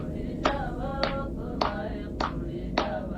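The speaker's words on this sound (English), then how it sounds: "4 women sat on the floor, each clapping their hands and singing a traditional Kohistani song" Four women seated on the floor in the Kohistan region of Pakistan clap their hands in a steady rhythm, five sharp claps about half a second apart over a dense background of singing and murmur, captured on grainy footage.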